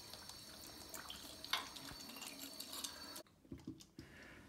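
Water rinses through the fill hose of a Geberit concealed toilet cistern, flushing out dirt and small grit. A faint, steady hiss runs for a few seconds, then cuts off, leaving a few soft drips and clicks.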